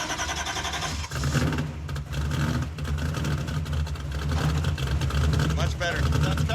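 A car with a straight-cut transmission runs in gear, making a continuous mechanical engine and gear drone with a steady whine. People talk over it.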